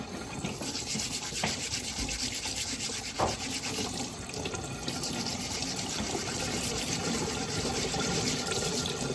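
Steady rough scrubbing of potatoes with a scrubber under running water, a continuous close-up rubbing and splashing texture with a couple of brief knocks.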